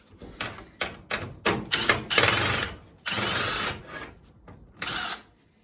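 A bolt being removed from a Whirlpool Duet washer, heard as a series of sharp ratcheting bursts and short tool whirs, close and fairly quiet, with pauses between them.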